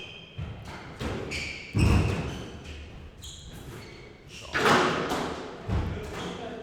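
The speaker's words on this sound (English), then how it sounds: "It's a great lob there by Jack." Squash ball struck during a lob in an Unsquashable Premier League match, heard as a few sharp thuds spaced across the rally, close and fairly loud, over faint court and crowd noise.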